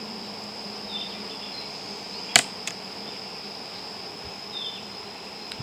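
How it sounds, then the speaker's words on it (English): A crowd of honey bees buzzes inside an open beehive, a steady, even hum running throughout at moderate level, with a couple of brief sharp clicks near the middle. "There are a lot of bees in this hive."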